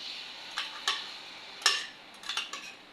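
Ground onion hits hot oil in a pan and is stirred with a utensil. Light scraping taps and clinks come at irregular intervals over a faint sizzle, nearby and fairly quiet, with no talking.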